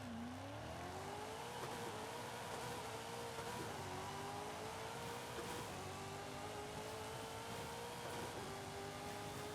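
A car in Forza Horizon 5 accelerates down a drag strip with a stick shift toward about 7,000 RPM, its engine note climbing in repeated rising sweeps through the gears, loud and continuous with no talk.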